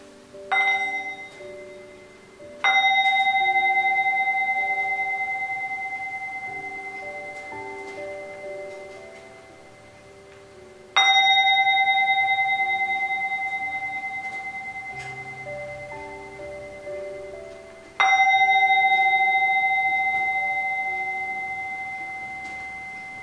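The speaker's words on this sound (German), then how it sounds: "we will listen to 3 sounds of the bell" A meditation bell struck three times, each a clear resonant ring with bright overtones that slowly decays into long quiet sustain before the next strike, with no other sounds.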